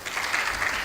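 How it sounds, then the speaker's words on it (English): Conference audience applauding, a steady dense patter of many hands clapping at moderate volume throughout. "Please, round of applause."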